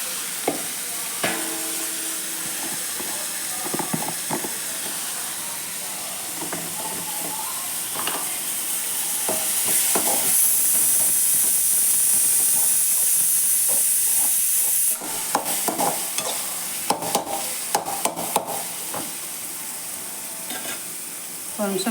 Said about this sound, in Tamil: ஒரு நிமிஷம் நல்லா வணங்கட்டும் வெங்காயம் தக்காளி.